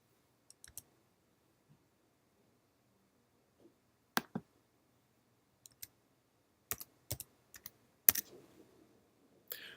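Light, sparse clicks of a computer keyboard entering a zip code, single keystrokes and short bursts separated by pauses, close and quiet with no talk.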